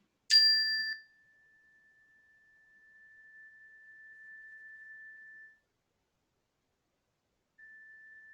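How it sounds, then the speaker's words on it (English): A mindfulness bell is struck once with a bright metallic strike, then its pure tone rings on in a long, thin sustain that fades and briefly returns, alone in otherwise near silence. "I'll just ring the bell once more."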